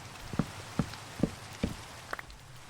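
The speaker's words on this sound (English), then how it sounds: "And it started raining, but thankfully that doesn't put out the campfires." Rain falls steadily in Minecraft on an industrial island, a soft continuous hiss punctuated by a few distinct drip-like taps.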